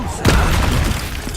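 A sudden loud boom from the Confringo fire spell in Hogwarts Legacy, a single close blast followed by a rumbling decay that lasts about a second.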